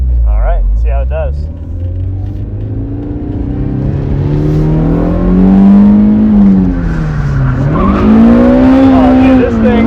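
A mid-engine car driven hard over quick undulations, engine loud and close with pitch climbing and dropping as revs rise and fall, brief tire squeal, people talking over it.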